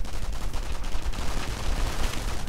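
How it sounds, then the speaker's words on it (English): Rapid gunfire from an aircraft strafing run in a real-time strategy game, a dense, continuous crackle of shots and impacts over a rumbling low end, loud and steady throughout with no talking. "We could be seeing a strafing run, right?"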